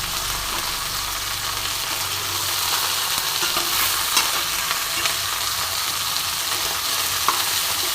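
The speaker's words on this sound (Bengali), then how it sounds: "তো আর এক পিঠ আমি ভালো করে ভেজে নিই।" Cabbage fritters fry in a pan with a steady, dense sizzle of hot oil that runs evenly throughout, close and fairly loud, with no voices.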